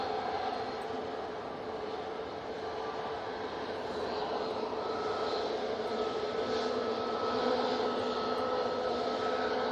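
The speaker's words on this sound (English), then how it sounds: "Pilot doing a really good job there to keep those wings nice and level on this Max." A Ryanair Boeing 737 Max lands in storm winds at Manchester Airport, a broad, steady jet engine roar with gusty wind noise held at an even, fairly loud level throughout.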